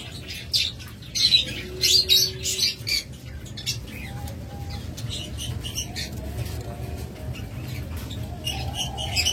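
Rainbow birds kept as pets for sale chirp and squawk close by in a bird market setting, bursts of bright calls over a steady low rumble of background noise.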